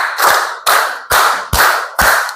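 A classroom group claps a patterned rhythm in bursts of sharp, loud, overlapping hand claps, five distinct bursts spaced evenly about half a second apart, with no talking.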